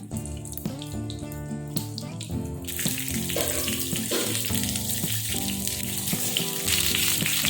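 Brinjal frying in oil in a pan gives a steady, close sizzle that grows louder and denser partway through, with no talking.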